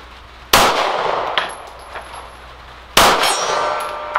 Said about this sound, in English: Got the gong.